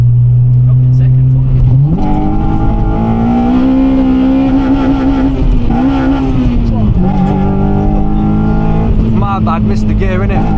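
A Honda Civic Type R EP3 engine revs hard in second gear, rising steadily in pitch, dropping briefly and climbing again as the car pulls. It sits loud and close throughout, with voices talking over it.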